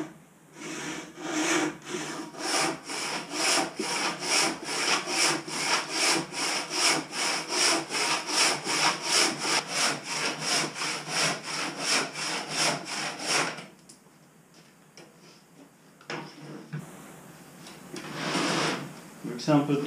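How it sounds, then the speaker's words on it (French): Large hand saw cutting through a soft aerated concrete block, a fast regular back-and-forth rasping of about two dozen strokes, close and loud, then a pause with light scraping and handling. "Ça se découpe à la scie manuelle. C'est une scie spécifique."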